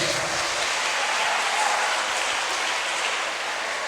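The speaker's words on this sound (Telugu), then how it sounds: "7 అంటే చప్పట్లు కొట్ట, మన 7 మిస్ అయింది." A crowd at a career-goals education session claps in a dense, even burst of applause that holds steady throughout, loud and close, with no voices over it.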